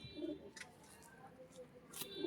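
A pigeon, a lively female offered for sale, gives a few soft low coos, with a couple of brief sharp noises and faint background rustle.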